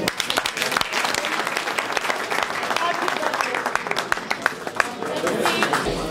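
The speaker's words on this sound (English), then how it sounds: "Let's applaud." Audience applause at a birthday gathering, a dense stretch of clapping from a room of people with sharp individual claps standing out, steady and fairly close, with voices mixed in underneath.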